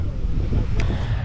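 Steady low wind rumble buffeting the microphone throughout on a windy corner near Grimsthorpe Castle, loud and broadband, with a brief higher hiss partway through.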